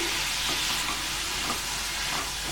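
Ripe chopped tomatoes frying and being stirred in a pan for paneer tikka masala, a steady close sizzle with soft scraping stir strokes running throughout, no talking.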